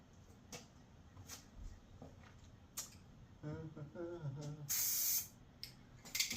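Eastwood rad black paint is sprayed onto aluminum radiator fins in short hissing bursts, with one longer, louder blast near the end among small handling clicks.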